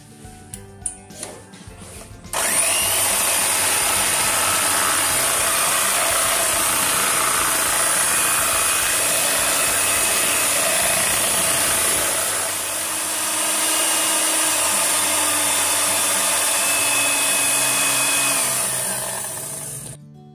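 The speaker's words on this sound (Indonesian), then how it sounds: "Habis ini kita langsung mixer aja ya guys." An electric hand mixer whips cream for a mango ice cream, starting abruptly after a few clicks. It keeps up a loud, continuous whirring drone with a slight dip in pitch partway through, then stops.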